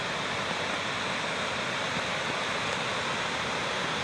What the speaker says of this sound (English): Goodness, that's a beautiful waterfall.